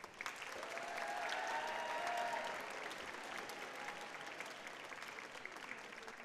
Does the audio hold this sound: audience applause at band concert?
yes